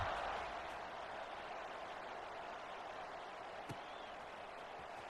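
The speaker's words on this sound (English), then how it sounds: "this crowd is buzzing after that last score" Stadium crowd in an American football video game giving a steady roar of cheering and applause after a score, a broad continuous wash of sound that stays loud and even throughout.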